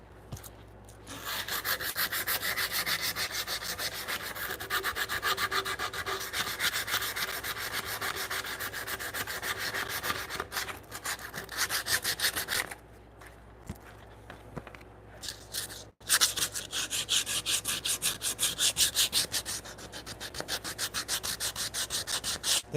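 A chisel pares wood around a knot while joinery is fitted by hand in a workshop: close, steady scraping and rasping strokes run almost continuously, with a couple of short pauses and a sharp break midway.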